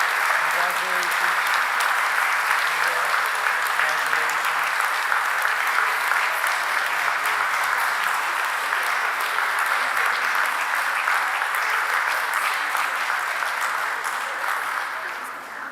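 A crowd at a city Board of Aldermen meeting keeps up long, sustained applause that holds even and loud before easing slightly at the end, with some voices faintly underneath.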